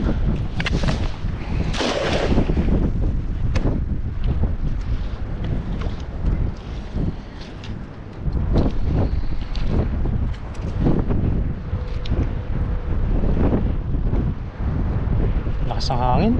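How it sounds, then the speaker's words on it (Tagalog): Strong wind roars steadily against the microphone outdoors by the water while fishing from a boat, with waves underneath and people talking through the gusts. "Lakas ng hangin."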